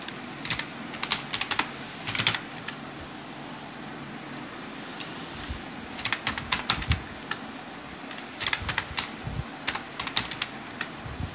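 Rapid bursts of keystrokes clatter on a computer keyboard while addresses are typed into a Word document, with short pauses between runs over a quiet room hum.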